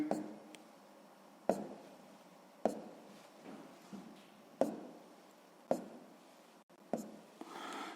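Pen strokes as numbers are written by hand on squared paper, a series of close, distinct taps and scratches at a steady, unhurried pace, with no talk.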